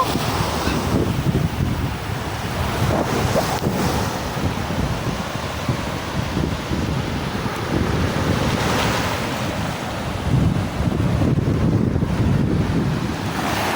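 Steady, blustery wind roars across the microphone over a constant wash of surf at the shore of Paniman Beach, with no talking.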